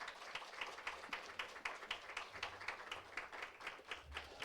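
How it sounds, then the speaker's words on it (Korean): Church congregation clapping to welcome a revival meeting preacher, rhythmic unison claps in a steady beat, fairly faint and distant in a large room. "미친 듯이 박수하시면서 환영하시겠습니다"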